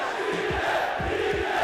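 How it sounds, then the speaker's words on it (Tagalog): A packed rap battle audience erupts in a sustained, loud roar, with rhythmic low thumps and shouts rolling through the noisy crowd. "Yun o, naulol yung crowd."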